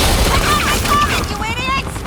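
Rapid bursts of gunfire in a game battle, loud and dense, mixed with a voice and whistling tones.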